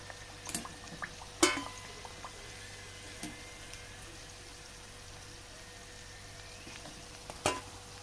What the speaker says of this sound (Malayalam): ഇതേപോലെ നമുക്ക് ബാക്കിയുള്ളതും ഫ്രൈ ചെയ്തെടുക്കാം തിരിച്ചു മറിച്ചൊക്കെ ഇട്ട് ഫ്രൈ ചെയ്തെടുക്കാം